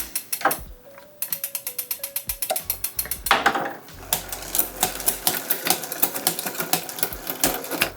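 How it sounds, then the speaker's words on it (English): A mountain bike drivetrain with a new transmission spinning, its chain guide rubbing slightly: a steady close ticking ratchet-like freewheel clicking with mechanical whirring, clear and alone with no talk. "I can actually feel that the chain guide is rubbing slightly there"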